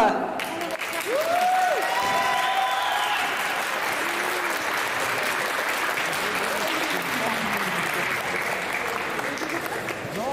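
Audience applause rises as a fighter enters the ring at a Profight wrestling event, a broad steady wash of clapping lasting throughout, with an announcer's voice and some tonal sweeps over it at the start.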